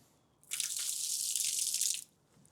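Excess water poured out of a container while watering seedlings in a driveway garden, a steady splashing stream lasting about a second and a half, close and fairly loud, then stopping abruptly.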